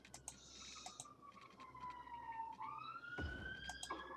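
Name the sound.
real-life fire engine or ambulance siren outside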